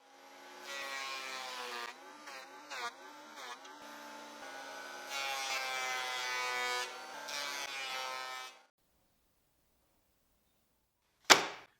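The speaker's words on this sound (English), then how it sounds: "Using the thickness planer, I'll make 8 pieces 8 millimeters thick" A thickness planer cuts pieces of old wood down to about 8 millimetres. It gives a loud, steady, harmonic machine roar for about eight seconds, stops into near silence, then ends with one sharp knock.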